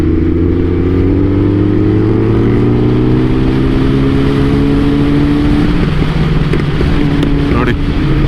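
Superbike engines, such as a Hayabusa, ZX-10R and CBR on a group ride, drone loudly and steadily, with layered rising engine tones and a shift near the end, under constant wind noise.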